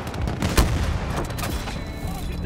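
Gunfire from a gun in a video game, with dense, loud bursts of shots and a heavy booming blast near the start, over a busy battlefield din.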